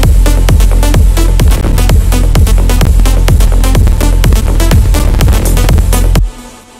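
A loud EDM future rave drop made in FL Studio pounds along with a driving four-on-the-floor kick, bright layered synths and rapid hi-hats, full and dense throughout before stopping suddenly at the end.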